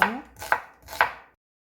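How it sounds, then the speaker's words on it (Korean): A knife chops a medium onion in three crisp, evenly spaced strikes close up, then silence. "물기 빠질 동안 양파 중간 크기 하나 썰어주세요."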